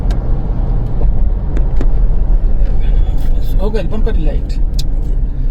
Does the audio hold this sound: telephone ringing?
no